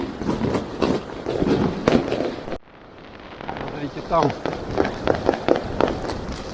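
New Year's night fireworks in Yakutsk going off between apartment buildings, sharp pops and bangs bursting on both sides of a short silence, heard close over wind noise while someone talks.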